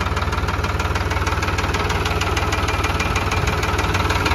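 A John Deere 5050 tractor engine runs loud and close with a fast, even diesel knock, a steady rhythmic throb that keeps going with no voices.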